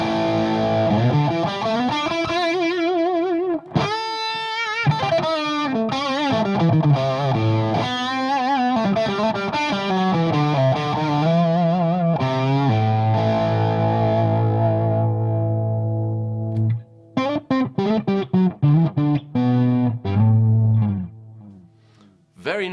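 Guitar played through a Boss BD-2 Blues Driver overdrive with the tone knob turned fully down, producing a dark, warm, gritty lead line of bends and sustained notes, loud and close, ending in a few choppier phrases.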